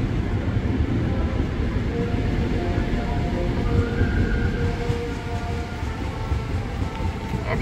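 A ten-car commuter train bound for Jakarta Kota rolls steadily through Duren Kalibata station on track 1 with a continuous rumble and screeching wheel tones, moderately loud and close, with no one talking.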